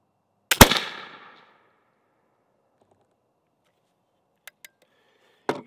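A .32 caliber flintlock rifle fired with a 10 grain powder charge, one sharp loud crack with a short rumbling decay, then near silence broken by a few faint clicks and another sharp transient at the end.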